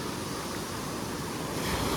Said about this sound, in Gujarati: અને તમે મોજા તો જો કેવા આવે છે